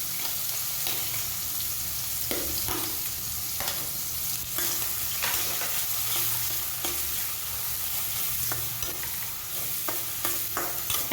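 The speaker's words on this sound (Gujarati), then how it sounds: "હવે આપણે તેની અંદર ડુંગળીને નાખી દઈશું." Onions sizzle and fry in hot oil with cumin seeds in a pan for Bombay-style masala pav, with a steady close crackle and repeated scraping stirs throughout.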